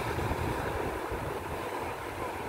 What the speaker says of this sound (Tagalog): Ayan na, lakas ng alon